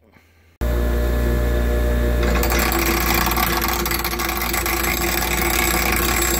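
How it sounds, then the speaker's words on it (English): A power grinder works on a Kimpex shock being fitted to a 2003 Polaris Sportsman 700, starting abruptly after a brief quiet moment and then whirring loudly and continuously, close up and alone. "this is how you grind it down"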